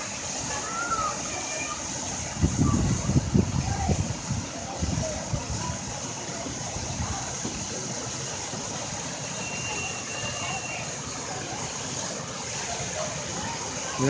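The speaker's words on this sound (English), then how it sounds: "And there's the waterfall." Steady rushing water from an artificial waterfall in a zoo exhibit fills the background, with a brief louder rumble early on.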